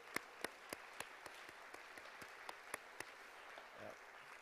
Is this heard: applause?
yes